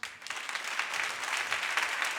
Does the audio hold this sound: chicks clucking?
no